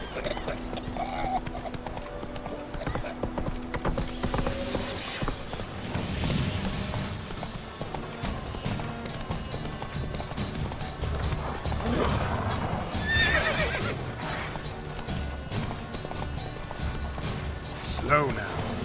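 Horse in the video game The Witcher 3 galloping with rhythmic hoof clip-clops, punctuated by neighs and whinnies, under background game music and speech.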